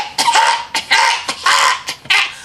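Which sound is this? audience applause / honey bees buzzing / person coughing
person coughing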